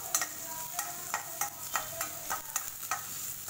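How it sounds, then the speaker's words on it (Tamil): Chopped onions sautéing in a pan until golden for an aval upma, with a soft continuous sizzle and regular light stirring scrapes about every third of a second, close and fairly quiet with no voices. "நல்லா பொன்னிறமாக வர வரையும் வதக்கிட்டு"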